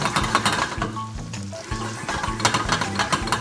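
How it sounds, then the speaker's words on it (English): Tagliatelle is tossed and stirred in a very hot buttered pan on the fire, with a soft sizzle under repeated metallic scrapes and clinks of the utensil against the pan. "We're gonna drop the tagliatelle in and we're gonna stir it."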